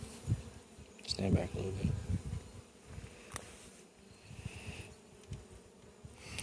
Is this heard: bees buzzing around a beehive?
yes